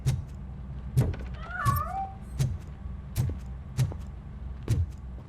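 A cat in the Robocop: Rogue City video game gives one short, rising-and-falling meow early on, set against a steady beat of dull, evenly spaced thumps and a low background hum.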